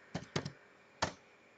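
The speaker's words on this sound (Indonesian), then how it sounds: "Run kita ketik pemilik PC." Quiet keystrokes on a computer keyboard, with two quick clicks close together, a short pause, then one more clack, heard alone in a still room.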